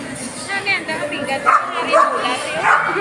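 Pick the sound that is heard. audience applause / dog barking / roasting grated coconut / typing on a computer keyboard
dog barking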